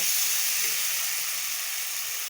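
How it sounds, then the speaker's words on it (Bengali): Rice and potatoes frying with spices in a pan give off a steady, loud, close hiss of sizzling oil that holds evenly and then cuts off abruptly. "চালগুলো দিয়ে এবার আবার ভালো করে কষিয়ে নেব"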